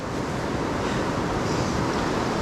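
The Cucumber Rapids on the river at Ohiopyle State Park make a steady, dense rush of whitewater in February, with no voices heard.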